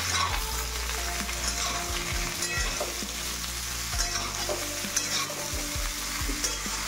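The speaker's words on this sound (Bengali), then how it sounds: "এরপর পটল ভেজে নিচ্ছি। সমস্ত সবজি ঢেলে দিলাম।" Mixed vegetables, including pointed gourd, potato, papaya, ridge gourd and drumstick, sizzle loudly in a pan while a spatula scrapes and stirs them in repeated rhythmic strokes.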